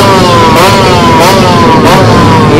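A motorcycle engine screaming at high revs above 13,000 RPM during a street race, loud and close, with steady rising and falling pitch sweeps as it revs, no talking.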